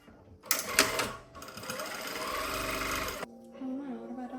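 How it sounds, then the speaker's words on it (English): A domestic sewing machine stitches fabric strips onto a baby's temperature blanket, running in a steady whirring burst of a few seconds after a brief start, close and fairly loud, with no talking. "now I'm going to sew them on"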